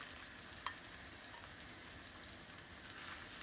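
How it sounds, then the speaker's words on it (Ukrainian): Steady, quiet sizzling of potato and sauerkraut patties frying in a pan over medium-low heat, a continuous crackling hiss with a few small pops and one brief sharper snap. "І смажимо їх на середньому вогні"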